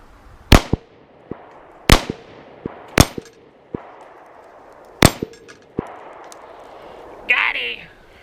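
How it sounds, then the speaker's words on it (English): Pistol shots ring off a metal target, four sharp cracks each followed by a bright metallic clang, spaced about a second apart. A faint voice speaks briefly near the end. "I had 4 more rounds for finishing off that box, so we might as well shoot them off"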